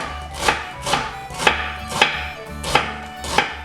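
A knife finely slices onions on a cutting board, six evenly spaced, crisp chops about half a second apart, close and clear with no talking.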